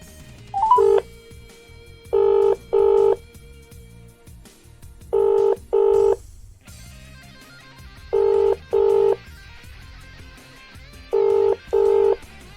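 A landline telephone rings in repeated double bursts after a short dialing beep, four evenly spaced ring pairs sounding clearly over a quiet background while calling about an Amiga 1200 for sale.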